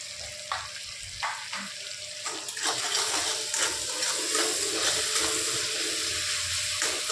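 Ground turmeric, cumin and Kashmiri chilli powder sizzle and crackle as they are stirred in hot oil for a vegetarian cashew-potato poppy-seed curry, with irregular spatula scrapes and frying hiss throughout, no talking.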